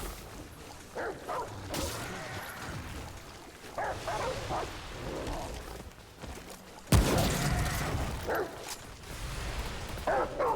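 A hunting dog companion barks in the video game Remnant, several short yips and bow-wows scattered through busy game noise, with a sharp gunshot-like burst near the end.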